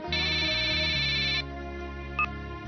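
A telephone rings indoors with a steady electronic tone pattern over a low hum, the tone cutting off after about a second and a half, followed by a brief beep.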